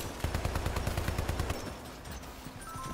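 Defensive turrets in the video game Hypercharged: Unboxed fire a rapid, rhythmic burst of automatic shots for about a second and a half, then fall back to a quieter background of scattered distant pops.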